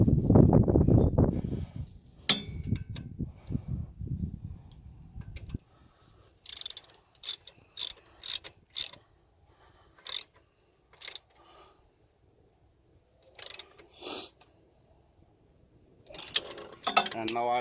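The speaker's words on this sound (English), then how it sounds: "now I will tighten the screw" A ratchet tightening the alternator screw on a Kubota tractor: a louder, low mechanical rumble at first, then short separate bursts of quick ratcheting clicks with quiet gaps between them.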